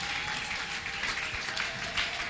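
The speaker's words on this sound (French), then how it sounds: "Est-ce que nous pouvons acclamer très fort pour le Seigneur?" A church congregation applauds steadily, a dense wash of clapping that stays loud and even throughout.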